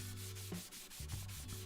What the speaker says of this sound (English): And then just gave them a hand sanding to make sure they're nice and flush.